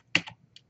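A single sharp keypress of the Enter key on a computer keyboard, close and crisp, followed by a couple of faint lighter clicks.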